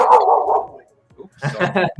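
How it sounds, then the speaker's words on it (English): A few livestock guardian dogs that live with sheep bark and yip close by, with a short quiet gap between them and speech-like voice mixed in. "Those are the dogs."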